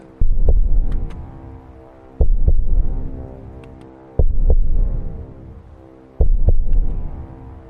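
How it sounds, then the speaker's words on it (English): Four loud, slow heartbeat thuds, spaced about two seconds apart, each a deep double pulse with a booming low throb, coming from a tree as an eerie sound effect; no voices. "And from that tree now, you hear a heartbeat."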